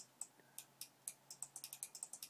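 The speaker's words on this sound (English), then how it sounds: "I'm just hitting the keys like a crazy person over here." Computer keyboard keys are struck in quick, irregular bursts of crisp clicks, closely recorded and speeding up toward the end, with no voices.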